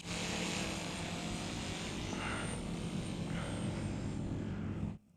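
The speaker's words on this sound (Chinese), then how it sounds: "我会很快起飞，然后过渡到前飞，半前飞，飞得很快" A homemade V-22 Osprey model aircraft flies fast in forward flight after takeoff, its rotors giving a steady, loud, buzzing drone that holds evenly for about five seconds before cutting off abruptly.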